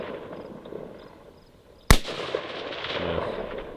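One loud, close crack of an AR rifle shot fired at a distant long-range target, followed by a trailing outdoor echo over a soft background hum.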